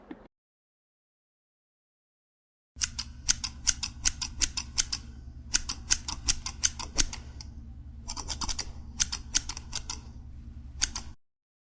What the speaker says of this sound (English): snipping with scissors